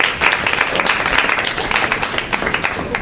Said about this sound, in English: So let's give an applause to our speaker for today.